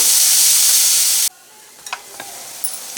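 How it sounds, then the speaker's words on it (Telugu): Onions and spices fry in oil for a brinjal and dry fish curry, a loud hissing sizzle that cuts off abruptly after about a second, followed by quieter stirring clinks and faint frying. "ఇప్పుడు ఇవన్నీ కలుపుకొని దూరగా ఫ్రై చేసుకోవాలి"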